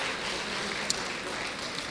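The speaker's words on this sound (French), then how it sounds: "j'aimerais qu'on l'applaudisse" An audience at an opening speech for a mayors' trade fair applauds in a steady wash of clapping, fairly loud and continuous, with no voices over it.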